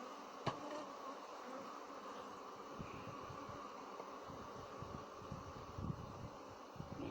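Honey bees hum steadily from an open hive, a faint, continuous buzzing with a few small clicks and knocks and no voices.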